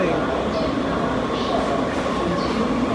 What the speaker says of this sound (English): here comes the two-car in Judah train